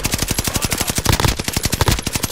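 Rapid automatic gunfire fills a Call of Duty Modern Warfare match, a dense, loud burst of closely spaced rounds rattling continuously throughout.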